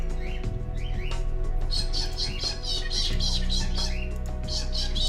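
Birds chirp in a busy, repeated series of bright calls for several seconds, close and prominent over a constant low hum, with no voices.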